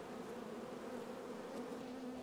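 Honeybees buzz around a swarm trap hive in a steady, close, continuous hum that holds level throughout, with no voices.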